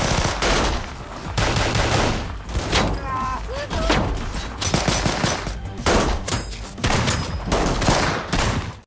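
Rapid bursts of automatic gunfire, repeated in loud clusters with brief gaps, sounding like an action film shootout.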